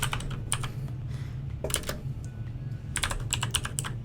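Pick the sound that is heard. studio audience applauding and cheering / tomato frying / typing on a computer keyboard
typing on a computer keyboard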